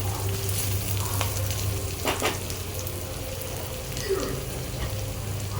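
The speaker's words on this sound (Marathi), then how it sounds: "शिमला मिरची पण छान अशी फ्राय झालेली आहे कातल्यासोबत" Capsicum and onion frying in a pan, with tomato about to go in, making a steady close sizzle with low bubbling and an occasional soft stir or spatter, no voices.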